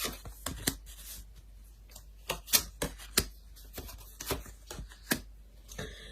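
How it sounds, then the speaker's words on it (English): Tarot cards being shuffled and laid out on a table during a daily reading, giving sharp, quiet snaps and flicks at an uneven pace with soft rustling between them, close and faint, with no talking. "So let's lay out some cards."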